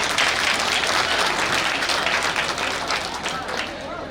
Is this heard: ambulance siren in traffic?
no